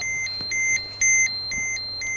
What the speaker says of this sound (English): It's gonna keep on beeping.